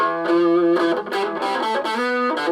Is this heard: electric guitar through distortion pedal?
yes